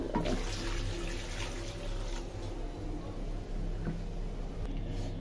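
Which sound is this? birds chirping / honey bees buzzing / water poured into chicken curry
water poured into chicken curry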